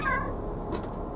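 A short cat meow in the video game Stray, heard once at moderate volume over a steady ambient game background.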